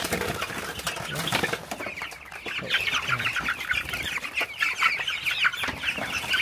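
Broiler chickens in a crowded poultry farm cluck and squawk continuously in a dense chorus, with occasional wing flaps and rustling close by.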